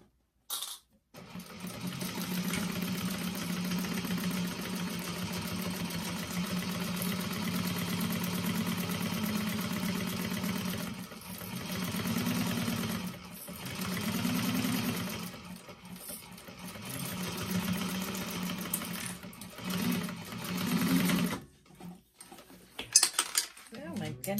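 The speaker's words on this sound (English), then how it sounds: "we're going to stitch along that with a quarter of an inch seam allowance again" A sewing machine stitches a quarter-inch seam on a Pelican tote bag, running in a long steady whir with a few brief pauses and some clinks toward the end.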